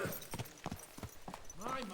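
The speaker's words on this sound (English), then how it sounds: "What a beautiful horse!" Horse hooves clip-clop in the video game Kingdom Come: Deliverance II, a series of close, evenly spaced thuds over a short stretch, with a voice speaking at the end.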